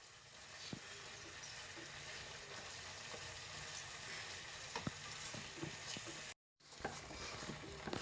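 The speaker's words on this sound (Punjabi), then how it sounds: "ਉਨੀ ਦੇਰ ਤੱਕ ਆਪਾਂ ਪਕਾਉਂਦੇ ਰਹਾਂਗੇ ਇਹਨੂੰ ਜਿੰਨੀ ਦੇਰ ਤੱਕ ਆਪਣਾ ਪ੍ਰਸਾਦ ਘੀ ਨਹੀਂ ਛੱਡ ਦਿੰਦਾ" Jaggery halwa cooks in ghee with a constant low sizzling hiss and occasional faint stir clicks, cut by a brief moment of silence near the end.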